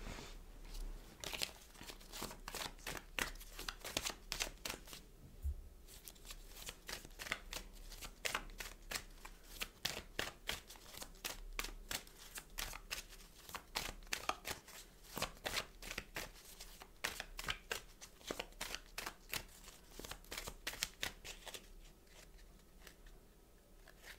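Tarot cards are gathered up and shuffled by hand close by, a continuous run of rapid crisp riffling and flicking bursts with brief pauses, with no talk.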